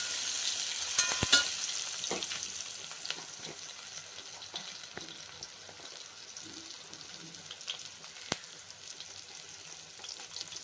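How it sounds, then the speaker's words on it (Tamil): Cabbage and potato masala sautéing in a pan for a Chettinad-style dish, a continuous close frying sizzle with occasional stirring scrapes and clinks and no voices. "நல்லா வதங்கட்டும்."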